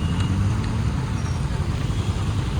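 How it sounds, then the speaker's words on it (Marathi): Heavy road traffic rumbles steadily during a rainy drive to the office, a dense, continuous low roar of engines and tyres heard from inside a vehicle, with no distinct horns standing out. "बघू शकता मित्रांनो कशी ट्रॅफिक आहे इकडे."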